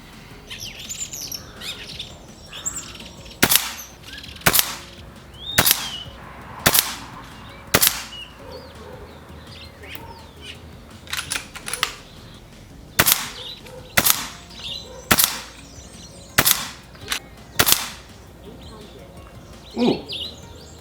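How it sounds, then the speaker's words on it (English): Air rifle regulated to about 70 bar firing JTS 16 grain pellets at roughly 875 feet per second, outdoors: about a dozen sharp, loud cracks spaced a second or so apart, with birds chirping in the background. "so I had to adjust the regulator down to about 70 bar to shoot these pellets at a decent speed."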